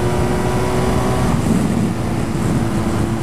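A 2021 BMW R1250 GS Adventure motorcycle rides and accelerates, a loud, steady engine drone with heavy wind rush and a slight shift in pitch partway through, no voices.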